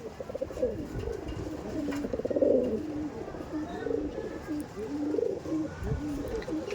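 Pigeons coo steadily at a loft sale, several birds overlapping in low rolling calls that carry on through the whole stretch, with a little distant background noise.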